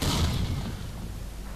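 Grenade blast in the shooter game S.T.A.L.K.E.R. Call of Pripyat: a loud, low rumbling boom that decays over a second and a half, with no talk over it.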